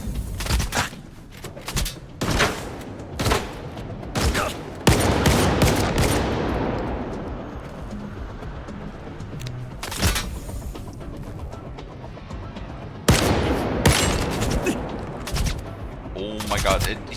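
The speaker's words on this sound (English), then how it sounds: "Oh my god, he's shooting me?" Enemy gunfire in Stalker 2, sharp loud bursts of shots cracking in repeated volleys with a boom and long fading tail midway, a player talking between the bursts.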